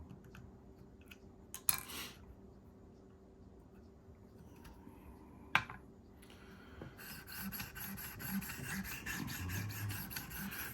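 A Sebenza clone knife blade is drawn across a sharpening stone in short, scraping rasps, with a couple of sharp clicks, then a longer stretch of steady grinding strokes, close and fairly quiet.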